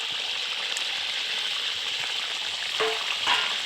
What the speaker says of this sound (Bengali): এবার এটা একটু ফুটবে, যেহেতু একটু কষতে দিতে হবে